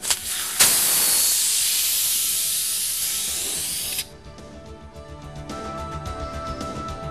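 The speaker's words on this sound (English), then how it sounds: "Listen carefully for the escaping air from the puncture and see how quickly the sealant works." Air hisses loudly from a tire punctured with a pickaxe, a broad steady rush starting with a sharp strike and dropping off abruptly after about three and a half seconds, leaving faint low background sounds.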